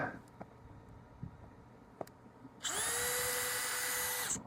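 A power drill unscrews fasteners during maintenance on an Airstream trailer: a few faint taps and clicks, then a loud steady high-pitched motor whine lasting nearly two seconds before it cuts off, close by and with no talk.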